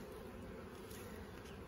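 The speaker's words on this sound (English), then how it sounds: "Bees are a little irritated with me." Irritated honeybees hum in an open brood box hive, a faint, steady buzz heard up close without speech.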